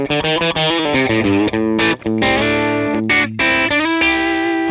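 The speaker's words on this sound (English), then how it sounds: "We'll add in our compressor." An electric guitar runs through a Vox-style Essex A30 amp model on a Helix with a compressor added, playing a fast run of chiming notes and then sustained chords, lightly driven, with a shimmering effect and no talk.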